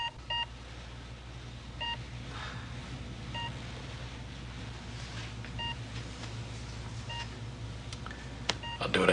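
Telephone keypad tones beep one after another in a quiet room as a number is dialed, a short series of distinct electronic dialing beeps spaced over several seconds with low background hum and no talking.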